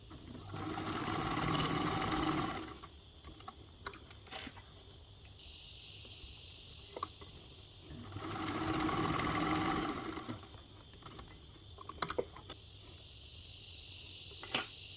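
A home sewing machine top stitching a backpack strap runs in two bursts of fast, even whirring of about two seconds each, separated by quieter pauses with small clicks and handling sounds.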